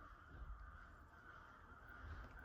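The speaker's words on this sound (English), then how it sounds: "I cannot remember the last time I heard that many crows." A large flock of crows caws outdoors, their calls faint and distant, blending into a steady chorus over low background noise.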